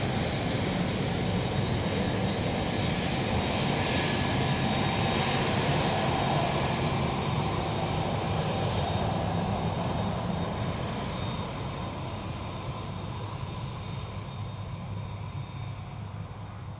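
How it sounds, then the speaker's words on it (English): A Boeing 777 in flight at a busy cargo airport gives a distant, steady jet engine roar. The rumble holds level for most of the stretch, then eases slightly toward the end, with no voices over it. "Scott says we get another 777 from DFW headed our way."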